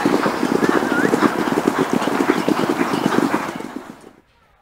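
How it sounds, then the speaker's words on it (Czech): Racehorses gallop close by toward the finish of a 3200-metre horse race at Pardubice. Their hooves drum in a rapid, steady rhythm, then fade out abruptly at the end. "s posledními koni, kteří dokončí dostih, jsou Kaluha a Chico de Chili."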